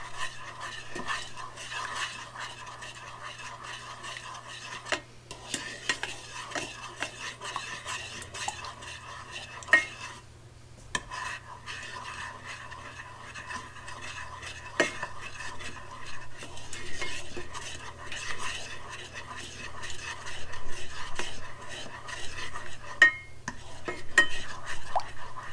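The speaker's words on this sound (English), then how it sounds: "So just stir this around so it doesn't burn." A spoon stirs lemon juice syrup in a pan, soft repeated scraping and faint clinks against the metal over a low hum, quiet and close throughout with no speech.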